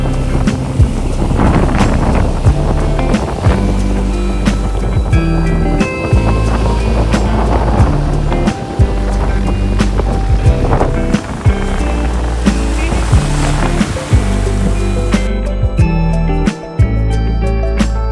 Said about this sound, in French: Quand on a des vagues!